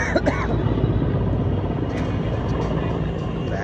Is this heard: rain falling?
no